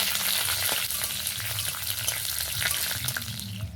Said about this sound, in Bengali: এবার একটু নেড়ে চেড়ে নেব।